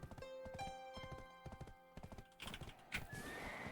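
Horse hooves clip-clop in a steady rhythm in the Black Desert video game, followed by a loud whinny near the end, with game music running underneath.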